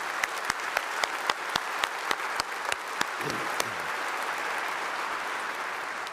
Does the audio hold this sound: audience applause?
yes